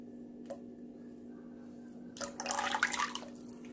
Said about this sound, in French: je vais ajouter maintenant 50 ml d'huile